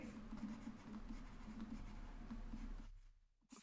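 Chalk or marker writing on a board during a physics lecture on units of magnetic flux, a faint continuous scratchy stroke sound with soft rhythmic taps, then a brief pause and a last scratch, quiet room with no talking.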